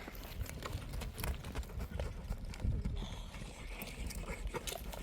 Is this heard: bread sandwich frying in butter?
no